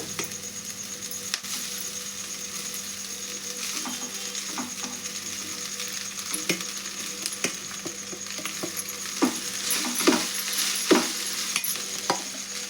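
Cooked rice is stirred into a pan of sizzling fried onion tempering, with a steady fry hiss and repeated sharp scrapes and clinks of a spoon against the pan that grow busier toward the end.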